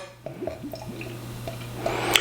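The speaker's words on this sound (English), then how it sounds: "Let's give it a pour." Jet-black beer, a 3 Floyds Brewery stout, is poured from a bottle into a glass, giving soft glugs, trickles and a rising fizz of carbonation, fairly quiet and close with no talk.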